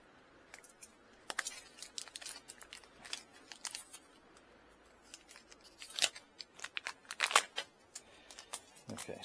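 Scissors snip and crinkle through plastic packaging around rain barrel tubing, making irregular close, quiet cuts and rustles with short pauses between clusters and no talking.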